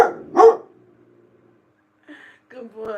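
Guard dog barking, two sharp close barks at the start, then a pause before a few shorter yips and whining barks near the end, loud against an otherwise quiet room.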